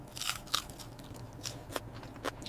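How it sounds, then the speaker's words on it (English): Crispy, non-greasy fried chicken being bitten into, giving a few sharp, close crunches with crackly bursts spread over a couple of seconds. "Listen to that crunch."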